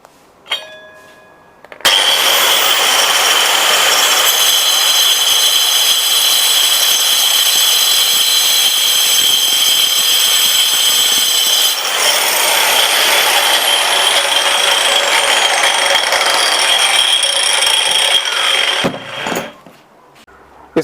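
A power tool, likely an angle grinder, cuts through a pin anchor bolt with a loud, sustained high whine that runs steadily for about seventeen seconds before winding down.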